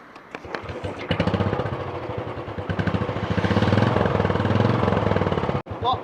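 A Royal Enfield Bullet 350 BS6 motorcycle engine starts and settles into a steady thumping idle, heard close and fairly loud, with a sharp click near the end.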